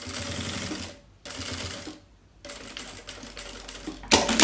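A sewing machine stitches a pocket onto a fabric notebook cover, running in steady close whirring bursts broken by two short pauses, with a louder clack at the end.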